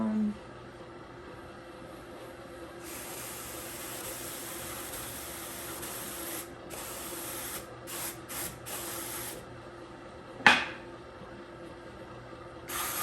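An electric drum carder runs while carding fiber for a 3-ply fractal batt, giving a steady mechanical hiss and whir that cuts out briefly several times, with a sharp clack near the end.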